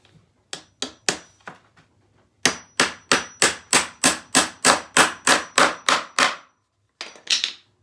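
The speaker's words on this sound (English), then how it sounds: "So get the rails on there, and you can drive your nails home." Nails are hammered into wooden rails for a screened beehive bottom board, a few spaced strikes followed by a long fast run of loud, sharp, evenly timed blows, then a short final burst.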